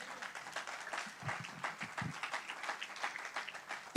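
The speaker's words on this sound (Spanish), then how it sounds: "Dele un aplauso al Señor." A church congregation claps during a Spanish-language sermon on the Holy Spirit, a soft, scattered patter of hands at a distance with murmured voices underneath.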